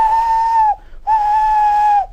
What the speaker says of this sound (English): Poor James disappeared under the bridge, whistling for help.